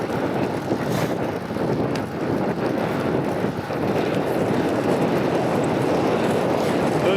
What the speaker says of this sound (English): the wind will just be blowing you backwards